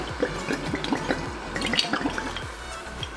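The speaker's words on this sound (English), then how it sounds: "I am adding here like 1 liter of water." About a liter of water is poured into a pot of chicken and masala for rasam, a continuous close splashing and gurgling fill that lasts the whole few seconds without speech.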